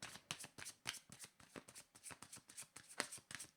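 Cards for a card reading are shuffled close up, a rapid train of crisp riffles and slaps in a quick, uneven rhythm throughout.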